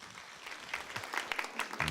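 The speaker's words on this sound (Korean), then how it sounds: "박수로 맞이해주세요." Audience applause at a Korean talk concert welcoming a guest speaker, a short burst of many hands clapping, fairly quiet and indoors.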